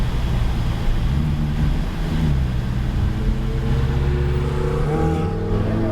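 Car accelerating hard on a driving course, its engine droning loud and close as the revs climb steadily. The roar runs unbroken and with no talk over it.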